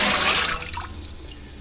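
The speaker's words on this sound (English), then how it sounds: "I now have 16 cups of ice cold water in this stock pot. So when I dump this in here" Raw chicken tipped into a stock pot holding 16 cups of ice-cold water: a short, loud splash and slosh that quickly fades into gentle trickling and dripping.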